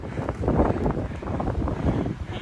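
Strong wind buffets the microphone during a bike climb up Mont Ventoux, a continuous rough roar with gusty surges and no clear talk.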